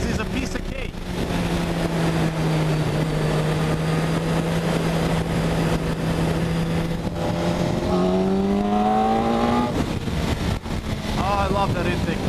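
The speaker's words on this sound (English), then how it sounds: "I love that intake noise. Once you crack that throttle, you know that it's on." BMW K1200S motorcycle from 2008 with an Akrapovic exhaust, its engine and intake droning steadily under heavy wind rush, then rising in pitch as the throttle opens near the end.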